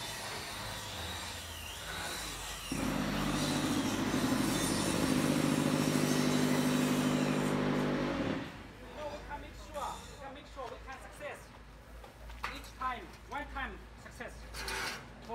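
QTJ4-40 manual hollow block making machine running, a loud sustained mechanical grinding and rattling that cuts off partway through, followed by clanks and someone speaking.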